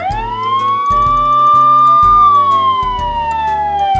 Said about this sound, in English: This button makes a siren sound.